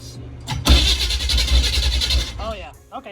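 A $150 old van stuck in mud for 20 years, its engine cranking on the starter in one loud sustained churning burst of about two seconds, close by, followed by a voice talking.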